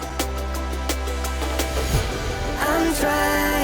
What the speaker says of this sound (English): The new thing is this reverse shot.